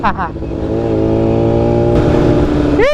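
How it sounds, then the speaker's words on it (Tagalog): Brand-new Kawasaki Z1 motorcycle with a stock exhaust revving loudly and steadily at close range, the engine tone rising and falling, with a voice talking briefly over it. "Isang Z1 na brand new, kaya stock pang exhaust."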